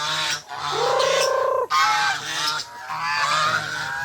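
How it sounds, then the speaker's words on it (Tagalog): Loud, close honking calls from chickens, several drawn-out squawks in a row, with a nasal, goose-like tone. "Manok. Mga manok."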